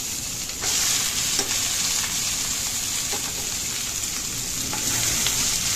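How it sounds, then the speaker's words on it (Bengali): Pre-steamed cabbage hits a hot pan with onion and nigella seeds, sending up a loud, continuous frying hiss with a wet gush, while periodic scrapes from stirring break through it. No one speaks. "এবার দিয়ে দেবো আগে থেকে ভাপিয়ে রাখা বাঁধাকপিটা"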